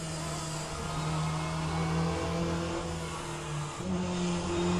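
Race car engines in the rFactor 2 racing game, a steady droning whine that shifts pitch as cars close in from behind, fairly faint and continuous with no talking.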